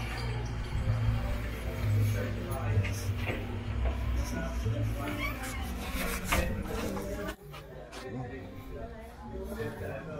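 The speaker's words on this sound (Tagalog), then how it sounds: "Pusa." A cat meows a few times amid nearby chatter and household clatter, with a low hum underneath.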